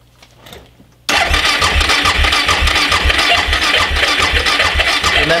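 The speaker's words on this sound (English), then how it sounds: "Now we'll see if the bike even fires up." A Suzuki DR650 motorcycle engine with a freshly adjusted carburetor fires abruptly after a quiet moment, then settles into a loud, steady, thumping single-cylinder idle close by.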